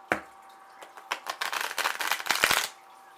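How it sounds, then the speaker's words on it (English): Tarot cards being shuffled by hand, a brief opening snap followed by a rapid riffling flutter of card edges that builds and ends abruptly, close and fairly quiet. "And let's give it another shuffle."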